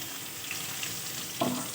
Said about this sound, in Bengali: ভাজা হয়ে গেছে আমার সবজিগুলো